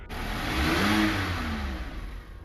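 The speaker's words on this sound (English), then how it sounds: "the hum of the engine" A car engine hums and swells as the vehicle drives along a highway at night, with a steady mid-pitched drone and a passing whoosh, close and fairly loud, with no voices.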